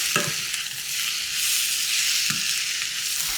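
Tomatoes, cashews, garlic and ginger roast together in a pan as a masala for hotel-style paneer masala, giving a steady close sizzle with two sharp scraping stirs of a spoon against the pan.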